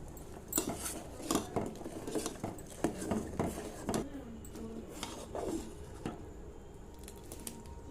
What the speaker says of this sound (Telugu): బెల్లం బాగా కరిగే వరకు తిప్పుకోవాలి